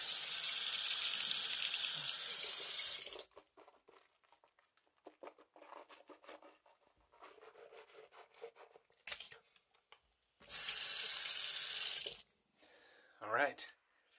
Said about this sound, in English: I'm gonna rinse my mouth quickly.